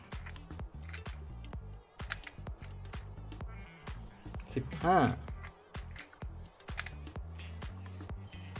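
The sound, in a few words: Rolleicord camera shutter firing at set speeds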